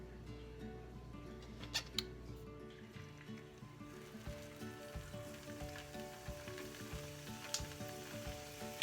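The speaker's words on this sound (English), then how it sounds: "So you're just gonna fry it for about a minute on each side." Ground turkey empanadas frying in a pan, a quiet bubbling sizzle with scattered pops and crackles, fairly faint and steady, alone without voices, with a low hum under the first few seconds.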